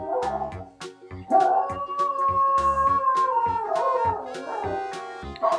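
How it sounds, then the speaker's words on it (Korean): A dog howls in long, wavering notes while someone plays a piano in irregular plinks, close and fairly loud. "강아지들은 피아노를 치면은 이렇게 하울링 하는 게 말이죠."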